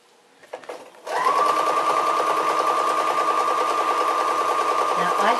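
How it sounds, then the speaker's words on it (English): A sewing machine with an even feed foot stitches quilt binding, starting after a few soft handling clicks and then running in a close, steady, continuous whir until the end. "I'm going to start sewing."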